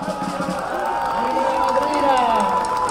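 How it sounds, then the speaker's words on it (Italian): A crowd applauds and cheers at the opening of the 66th carnival in Muggia, a steady dense wash of clapping and voices with an announcer speaking over it. "dai, applauso."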